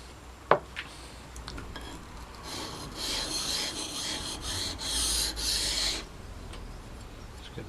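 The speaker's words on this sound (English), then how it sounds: "I'm just lapping this now on the stone." A chisel is lapped on a sharpening stone: one sharp tap, then a series of rhythmic back-and-forth rasping strokes, close and fairly quiet, before the scraping stops.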